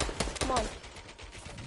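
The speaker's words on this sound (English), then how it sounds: "Getting shot at." Bursts of gunfire in the game Fortnite, a few sharp shots clustered early then fading into quieter background noise, with a player speaking briefly.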